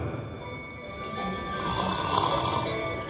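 Loud, steady snoring with rough, rumbling breaths that swell in the second half, heard alone without talk.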